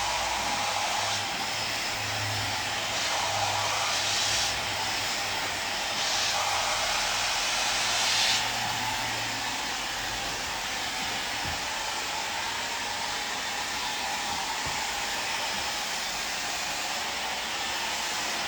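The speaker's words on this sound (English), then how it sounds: "I'm really just getting as much as I can get done with the blow dryer" A hair dryer blows steadily and loudly at close range throughout while drying and stretching a woman's long bob, a continuous airy roar with slight shifts in pitch as it moves.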